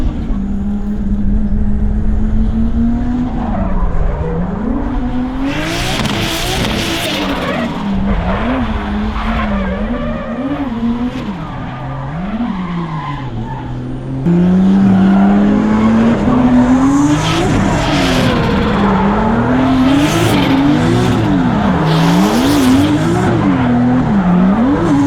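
A car drifts through a track corner, entered with the handbrake, its engine roaring loud and close while the tires squeal and skid in long wavering screeches that swell again midway.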